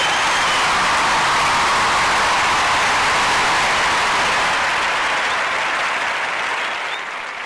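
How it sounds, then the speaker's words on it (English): An audience claps for a guest on a talk show, giving a dense, sustained round of applause that stays loud and fades slightly at the end. "We're going to give her a round of applause for joining us today"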